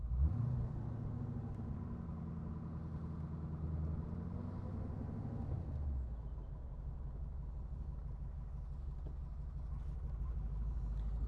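AK Cobra replica with a V8 engine cruising, a steady low engine rumble heard from inside the car, with a brief rise and fall in revs before settling into a smooth drone.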